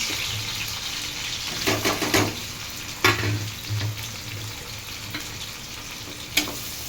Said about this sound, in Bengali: তো পেঁয়াজগুলো আমি লাল লাল করে ভেজে নেব